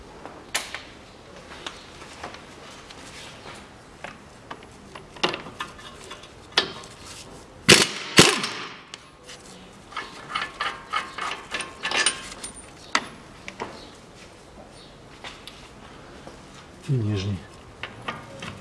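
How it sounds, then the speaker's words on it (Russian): Two brake caliper bolts being loosened with a 21 mm socket and ratchet on a Volkswagen Passat B6, with scattered ratchet clicks, metallic clanks and handling knocks, close by and intermittent, while someone talks. "Откручиваю два болта, головка на 21."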